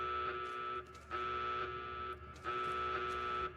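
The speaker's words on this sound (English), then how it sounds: "Oh god, there's 2 alarms overlapping my head." Electronic alarm in Fallout New Vegas, a loud, steady buzzing tone that blares in three long pulses separated by brief gaps, with no talk over it.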